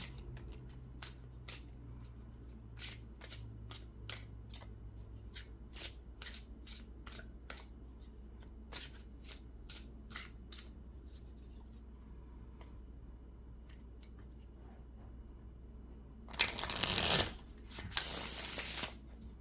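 Repeated crisp riffling bursts of tarot cards being shuffled over a faint hum, then a louder, longer rustle near the end.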